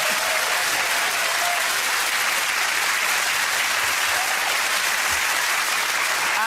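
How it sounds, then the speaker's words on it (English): A television comedy panel show's studio audience breaks into a loud, full round of applause, many hands clapping densely and continuously, close and even, with no talk over it. "give it a round of applause to Ed Andy."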